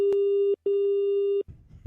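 A steady telephone busy tone repeats in two long beeps, separated by brief gaps, followed by faint rustling.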